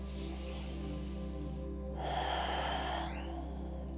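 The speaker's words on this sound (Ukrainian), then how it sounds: "Вдих. І видих." Steady breathing in and out during a yoga session for the back and shoulders, a soft airy inhale and exhale heard close and alone over a low constant hum.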